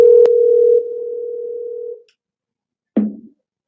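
Outgoing telephone call tone: one steady electronic ringback tone holds for about two seconds, then a pause and the start of a second, shorter tone, clear and alone.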